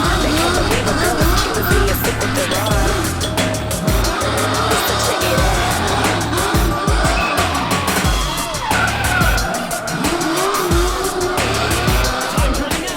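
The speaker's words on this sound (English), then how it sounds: "The American muscle car was then put to work at the bottom of the course as he attacked the bollard twice, got the car sideways through the angle box" An American muscle car drifts sideways around bollards and through an angle box on a drift course at a Red Bull Drift Shifters event: a loud, continuous engine roar with long, shrieking tire squeals that surge and fade.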